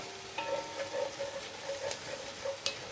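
Garlic sizzles in a hot pan while being stirred, a steady soft frying hiss with regular light scraping strokes about every quarter second, fairly quiet and close.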